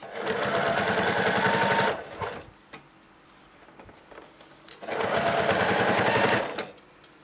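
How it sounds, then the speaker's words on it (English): A Juki TL-2010Q sewing machine runs fast in two loud, steady bursts of rapid needle chatter, separated by a quieter pause of faint handling sounds. "go back to fast sewing without flicking a switch"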